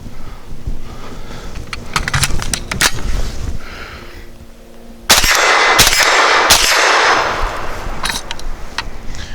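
A Definitive Arms AKX-9 fires steel-case 115 grain ammunition, giving several sharp, loud shots spaced irregularly outdoors, with a more intense cluster of cracks partway through.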